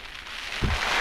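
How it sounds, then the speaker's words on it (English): Heavy rain lashes down during a stormy camp in the Cheviots, a steady, dense hiss with a brief low thump near the end and no voices. "Rain just started. Lashing down."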